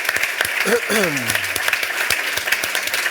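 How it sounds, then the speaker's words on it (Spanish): Applause from an audience at a book presentation for the leadership book Despierta al líder que llevas dentro, a steady wash of clapping lasting throughout, with a brief spoken voice gliding over it near the start. "un aplauso enorme para Luis Carvajal"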